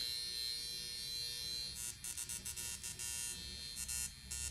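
A NuDerma skin wand gives a steady electric buzz, broken after the first couple of seconds by a run of short, crackling zaps in quick, uneven bursts, close and alone.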